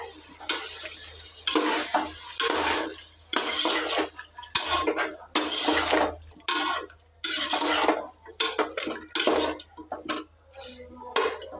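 Chicken biryani mixture being stirred in a pot with yogurt and garam masala, a spoon scraping and clinking against the metal in repeated close strokes with brief pauses, alone with no talk.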